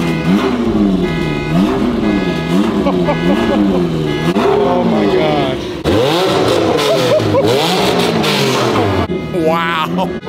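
A McLaren 720 supercar engine revs and accelerates hard through repeated rising and falling gear sweeps, loud and close, with a sharp shift about midway and voices mixed in.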